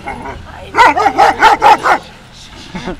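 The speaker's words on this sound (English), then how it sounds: "What is this barking? You've never done that before." A dog barks five times in a quick, loud run, then gives a softer yip after a short pause.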